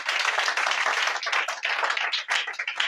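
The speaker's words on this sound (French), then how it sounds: "Est-ce que quelqu'un peut acclamer très fort pour la gloire de Dieu?" A church congregation claps and cheers loudly in praise, a dense continuous burst of hand claps with voices mixed in.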